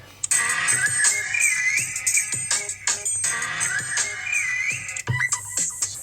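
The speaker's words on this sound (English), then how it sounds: "We got the same ringtones here." Old Android ringtone from the Holo era, played on an iPhone running Android: a bright, repeating electronic melody with whistle-like tones, loud and close, cycling in a steady loop with no talk.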